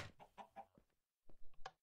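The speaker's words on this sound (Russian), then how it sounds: "Опять эта курица там застряла" A chicken clucks in a village in a video game, giving a few short clucks, a pause, then a quicker run of three clucks, close and fairly quiet.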